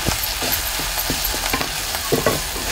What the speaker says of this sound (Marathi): हे लसणाचं पूर्ण कच्चेपणा जाऊसपर्यंत आपल्याला हे परतून घ्यायचं आहे